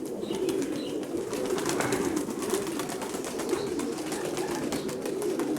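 Pigeons coo in low, soft, repeated calls, fairly close and continuous over a quiet outdoor background, with no talk.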